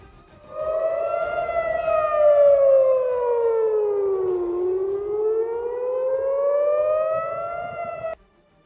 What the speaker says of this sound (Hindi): हालांकि वहां सायरन बजाकर लोगों को आगाह किया गया।